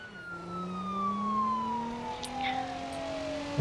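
Police car siren in BeamNG.drive, wailing steadily in long sliding tones over low engine rumble, fairly close and continuous with no talk.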